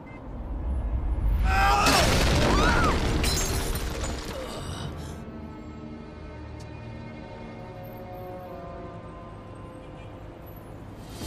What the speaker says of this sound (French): La table a amorti ma chute.